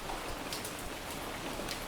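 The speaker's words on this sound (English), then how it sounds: "So we're getting rain here." Rain falls in a video game, a steady even hiss of pattering drops at moderate volume, constant throughout with no talk.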